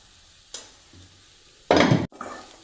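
Chili powder sautéing in oil for a Chengannur-style bone curry: a brief stir, then a loud close sizzle burst for about a third of a second, cutting off and resuming more softly.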